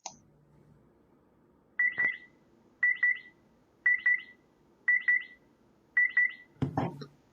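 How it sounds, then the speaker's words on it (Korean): An Albert toy robot sets off its proximity sensor with five double-chirp electronic beeps, spaced about a second apart and fairly clear over a quiet room, then a short clatter follows. "이때 알버트가 삐빅 삐빅 이렇게 5번 소리를 냅니다."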